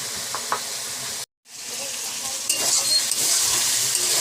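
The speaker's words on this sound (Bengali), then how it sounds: "দেখুন চিকেনটা আমার ভাজা ভাজা মতো হয়ে এসছে।" Chicken fries in a pan with loud continuous sizzling and stirring scrapes, broken by a brief gap before the hiss resumes, carrots about to be added.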